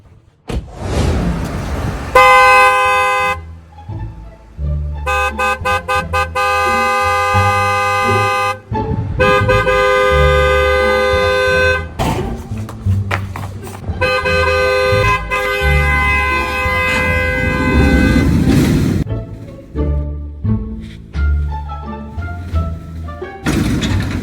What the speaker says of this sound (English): So you didn't hear my horn?